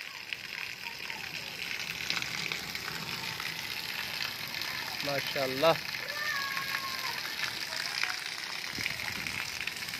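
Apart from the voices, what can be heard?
rain falling in a village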